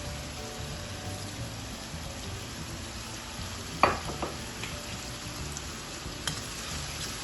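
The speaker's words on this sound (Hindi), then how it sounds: "अब इसको मैं कुछ देर के लिए फ्राई करूँगी।" Vegetables frying in a pan for Chinese fried rice give a steady, even sizzle like light rain, with one brief clink partway through.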